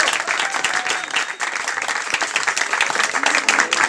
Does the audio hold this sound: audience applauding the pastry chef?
yes